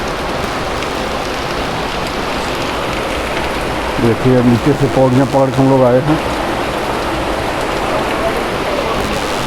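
Steady rain pours outdoors as a constant broad hiss, while someone speaks briefly in the middle over the downpour.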